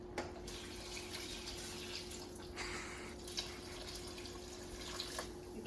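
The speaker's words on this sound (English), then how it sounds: "I'm gonna add a little more water to this." Water runs into a cooking pot in a home kitchen while making cocido, a faint trickling and splashing stream with a few brief drips and clinks.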